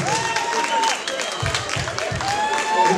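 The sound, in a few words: audience applause for the fashion designer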